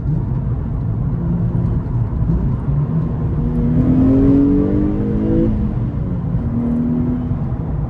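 Sports car with a manual gearbox accelerating, engine revs rising in pitch and falling at each shift through the gears, close and loud over a steady road roar.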